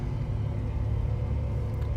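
A heavy truck cruising along in Euro Truck Simulator 2, with a steady low engine rumble droning evenly for two seconds and no talking.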